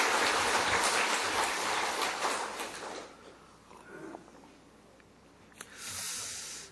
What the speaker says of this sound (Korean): 우리 힘내라고 박수 한번 할까요?